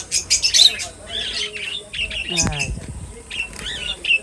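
Cockatiels including a lutino, doves and other small cage birds in a home bird colony chirp and squawk repeatedly, with near, bright calls scattered throughout and a brief flutter of wings midway.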